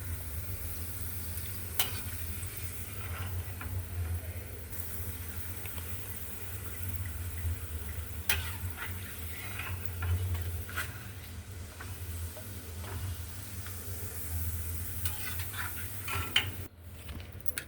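Papads fry in hot oil with a continuous soft sizzle and scattered small crackles and ticks over a low steady hum, fairly close and with no talking.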